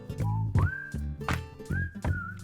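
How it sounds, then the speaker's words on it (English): Playful melodic whistling on an album track, short repeated phrases rising and holding steady notes over a bed of instruments, moderately loud and up front. "This one's kind of playful with this whistle."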